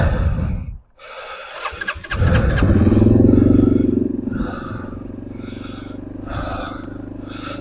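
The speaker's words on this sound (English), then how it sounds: "we're going to go ahead and take the Yamaha XT225 for a ride. It is a little cold-blooded. Takes a little while for it to warm up." A cold-blooded Yamaha XT225 motorcycle engine cranks, catches after a brief pause, and settles into a steady, loud idle as it warms up, with small throttle blips near the end.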